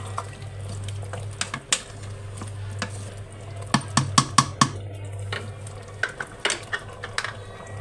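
Pumpkin, potato and lentils for khichuri stirred in a pot, a string of irregular scraping clinks and knocks from the spoon against the pot over a steady low stove hum, loudest in quick bursts toward the middle.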